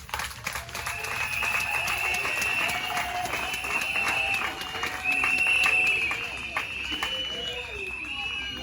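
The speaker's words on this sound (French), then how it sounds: "il mérite nos acclamations" Audience at a women's commemorative morning gathering in Nganda Yala applauds steadily for several seconds, a dense wash of clapping with a brief swell near the middle, crowd noise underneath.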